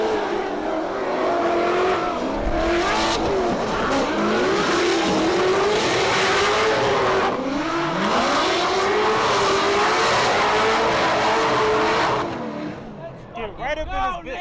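A Toyota JZX drift car battles in a Formula Drift competition in Orlando, its engine screaming and revving with rising and falling pitch as tires squeal through the slide, loud and sustained, with a commentator talking over it before it fades.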